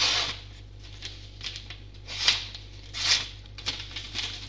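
Knife blade slicing through a piece of paper, several short dry scratchy cuts close up over a faint steady hum, with no speech.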